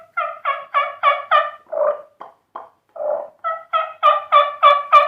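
A voice imitates a wild turkey gobble, a rapid series of rattling, pulsing gobbles in two bursts separated by a short pause with softer clucks, close and loud with no other talk.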